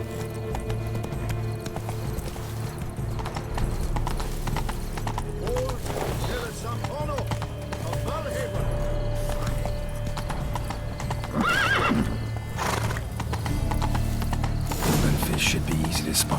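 Steady clip-clop of horse hooves in the game The Witcher 3, with occasional neighs and faint mechanical clicks over a constant ambient bed, while characters talk at times.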